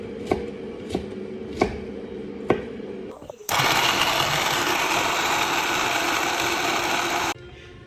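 Four evenly spaced knife strikes chop ingredients for chapati on a board, followed by a sudden loud, steady mechanical whir that cuts off abruptly.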